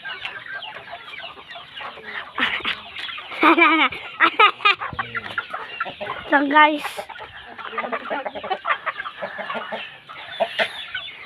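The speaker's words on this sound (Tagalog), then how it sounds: "Ang dami kasing manok doon ma." Chickens cluck and squawk in bursts near by, with people talking over the flock throughout.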